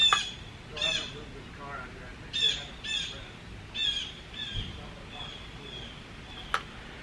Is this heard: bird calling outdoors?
yes